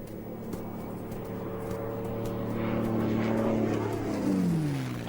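A propeller airplane passes low over the vast red desert of central Australia, a droning engine hum that swells louder and then drops in pitch as it goes by, with no voices.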